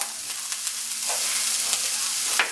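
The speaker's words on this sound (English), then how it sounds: "I'm also going to be putting my peppers in" Sliced red, orange and yellow peppers drop into a hot frying pan with carrots for a Jamaican vegetarian meatloaf, a continuous close sizzle broken by a few sharp crackles and stirring scrapes.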